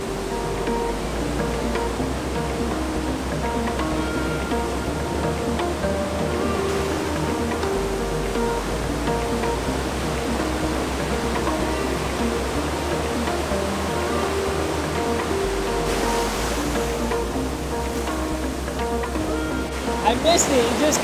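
Steady roaring rush of a waterfall falling onto a Caribbean beach mixed with surging ocean waves, loud and continuous throughout, with a brief swell near the end.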